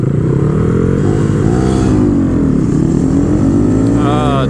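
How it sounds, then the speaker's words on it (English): A Honda Grom motorcycle with cam, intake and ECU mods launches off the line, its small single-cylinder engine buzzing loudly and climbing in pitch until it bounces off the rev limiter, heard close up over wind noise. "There, I hit the rev limiter."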